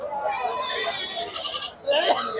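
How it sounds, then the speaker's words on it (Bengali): Black Bengal goats bleat at a crowded goat market, drawn-out wavering cries close by, with a short pause and then another bleat; people talk in the background. "সবই কিন্তু ব্ল্যাক বেঙ্গল জাতের ছাগল"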